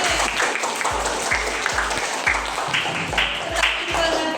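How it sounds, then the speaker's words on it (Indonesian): Classroom applause for a student named April, a lively round of clapping with sharp rhythmic claps from several hands in a small room, briefly loud and close. "beri aplaus untuk April"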